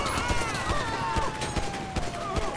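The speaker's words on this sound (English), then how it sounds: "Oh man, they're shooting." Rapid, sharp gunfire crackles in the GTA5 video game, a steady run of separate shots at an even pace over a background hum and a siren-like wail, with no talk heard.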